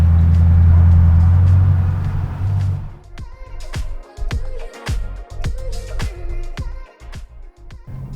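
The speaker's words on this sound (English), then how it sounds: "My car is loud, but this is insane." A BMW M3 fitted with a VF supercharger roars loudly, with a heavy low rumble for about three seconds, then gives way to a series of sharp clicks and knocks.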